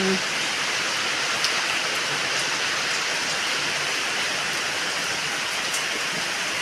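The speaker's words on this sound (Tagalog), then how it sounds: "Ulan, ang lakas ng ulan." Heavy rain pours down steadily, a dense, continuous hiss of drops drumming on surfaces with no pauses or voices.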